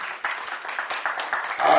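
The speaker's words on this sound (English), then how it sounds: "Please clap for her." Applause at a gala event, a short burst of clapping from the audience, moderately close, with individual claps audible and building toward the end.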